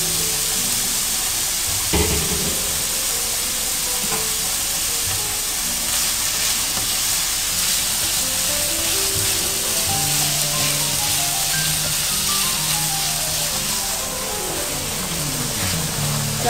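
Chicken sizzles in a hot pan for Chinese-style fried rice, a steady, dense frying hiss that runs unbroken from start to finish, with some tonal background sound layered beneath it.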